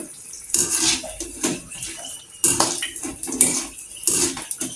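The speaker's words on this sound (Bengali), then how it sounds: "আমি কিন্তু একদম আস্তে জালে অনেক সুন্দর মশমশা করে ভেজে নিব" Battered chilli pakoras deep-frying in oil on low heat, with loud bursts of bubbling hiss rising and falling as they are turned, and no voices.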